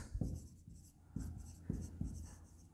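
Chalk or marker strokes on a board during an accounting lesson, a series of short scratchy taps and scrapes that come in bursts close to the listener, with no talking over them.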